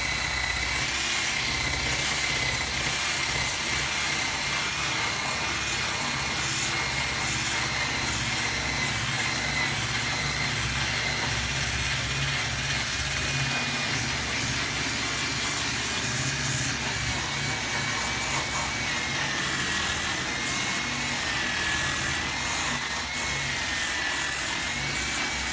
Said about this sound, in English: And I'm just using the edge of the wire wheel.